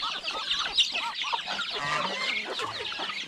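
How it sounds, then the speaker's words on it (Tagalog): Laying hens on a farm cluck and chatter in a busy, overlapping chorus, close by and moderately loud, with no talk. "patuloy po sa pag-itlog yung mga manok natin."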